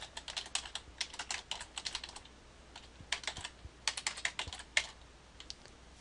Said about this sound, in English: I'm just gonna jump in here and type project list.